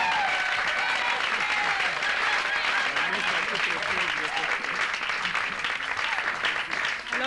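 Sustained applause from a crowd during an interview event in Kinshasa, continuous clapping that holds steady throughout, with voices and cheering mixed in.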